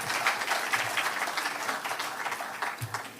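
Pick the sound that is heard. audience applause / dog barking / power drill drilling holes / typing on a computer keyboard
audience applause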